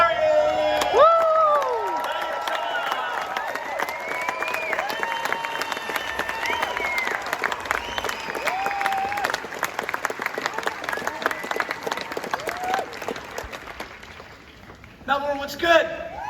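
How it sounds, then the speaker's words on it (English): A conference audience in Melbourne, at the Mindset Matters event, claps and cheers loudly and steadily for about fifteen seconds, with whoops rising above the dense applause before it dips and briefly swells again. "make some noise for Gary!"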